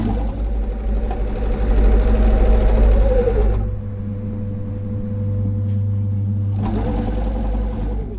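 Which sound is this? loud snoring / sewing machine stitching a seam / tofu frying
sewing machine stitching a seam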